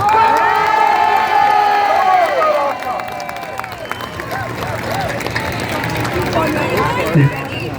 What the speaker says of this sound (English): big round of applause for my man Baraka